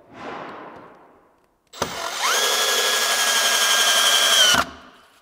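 A power drill drives a screw into an open frame timber staircase, first a short fading burst, then a pause, then one loud, steady whirring run of about three seconds that ends sharply, with the motor straining slightly near the end.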